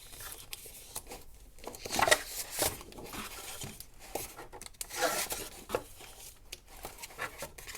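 Paper crinkles and rustles in short bursts, some louder crumpling and tearing-like handling close by, with quiet gaps between.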